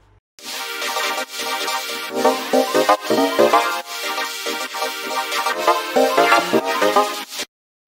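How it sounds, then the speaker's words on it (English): Bright synthesizer chords pulse in a rhythmic pattern with sweeping filtered textures, loud and continuous before stopping abruptly. "those are the synths that I used for the beginning of the track."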